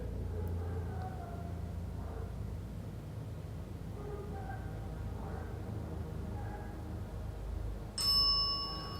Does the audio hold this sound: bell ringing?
yes